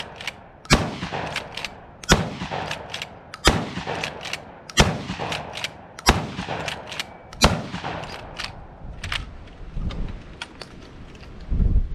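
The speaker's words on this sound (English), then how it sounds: "I'm just going to do rapid into the distance here" Black Aces Tactical 12 gauge lever-action shotgun fired rapidly outdoors: six loud, sharp blasts about a second apart, each with a short echoing tail, over light wind noise.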